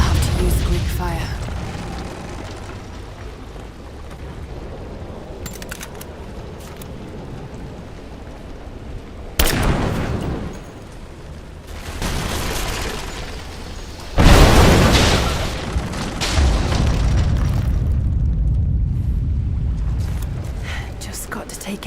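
Greek fire vessels bursting in a Tomb Raider game scene, loud booming explosions with broad roaring bursts over a rumbling background, separated by quieter stretches; a voice is heard briefly.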